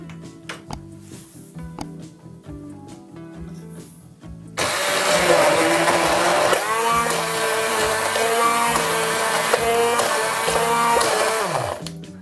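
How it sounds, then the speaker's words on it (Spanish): A blender crushing a lentil-dish seasoning with salt and saffron, starting abruptly and running loud and steady with a whirring motor whine for several seconds before winding down. "Y ahora lo vamos a triturar todo."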